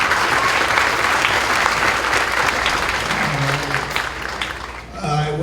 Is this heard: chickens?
no